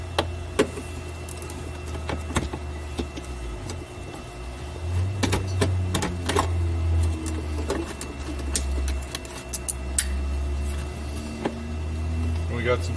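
Screws come out of the dashboard of a 1999-2004 Jeep Grand Cherokee WJ during heater core replacement, with scattered sharp clicks and ticks of the screwdriver and metal parts over a low hum, and a voice talking softly in places.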